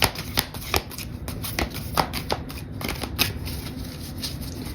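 Large, stiff, fairly new oracle archetype cards are shuffled by hand in a run of close, irregular riffling bursts and soft slaps, with no talk over them.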